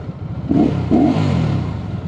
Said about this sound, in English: Okay, let's start the bike.